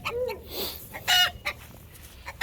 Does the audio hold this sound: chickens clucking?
yes